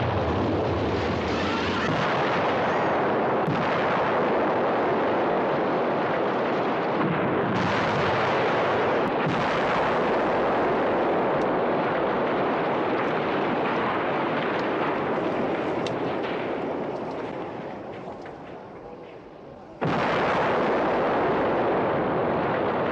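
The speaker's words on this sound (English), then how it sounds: "By showing you a fair few cabins in the woods exploding." Cabins in the woods blow up in a film, a long roaring barrage of heavy explosions with rumbling and crackling debris that stays loud throughout, eases off near the end and then bursts loud again, with no talk.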